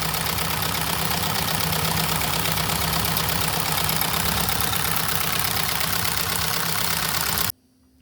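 A small solenoid engine fitted with a salt-water governor runs continuously with a fast, steady buzzing clatter, close and loud, before cutting off abruptly near the end.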